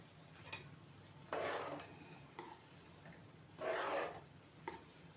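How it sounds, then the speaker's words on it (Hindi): Semolina roasting in ghee over a low flame is stirred in slow, gentle strokes, making soft gritty scrapes and rubbing swishes in two longer bursts with faint taps between, quiet and close with no voices. "सूजी को हाई फ्लेम पे बिल्कुल नहीं भूनना, बल्कि हल्के हल्के फ्लेम पे भूनना है ताकि सूजी अच्छी तरह भून जाए।"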